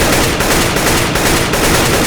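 Rapid automatic rifle fire in CS:GO, a sustained loud burst of gunshots repeating steadily for about two seconds with no voices.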